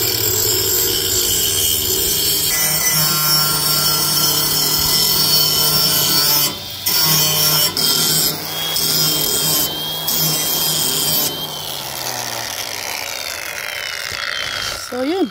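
A hand file rasps steadily along a dull tractor grass-cutting blade, making loud close continuous scraping strokes with brief pauses between passes.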